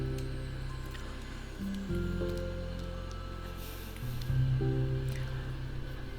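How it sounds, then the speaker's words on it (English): Running water plays as ambient game audio in Doki Doki Literature Club Plus, a steady wash beneath layered, sustained music tones that shift pitch every couple of seconds. "Now maybe you can clearly hear the water running."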